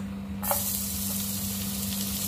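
Garlic hits melted butter in a pan and sizzles at once, a sudden bright hiss that settles into a steady close frying crackle with no talking.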